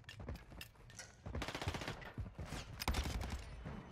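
Rapid automatic gunfire in a shooter game, dense rattling bursts that swell and fade over a few seconds, fairly close and loud.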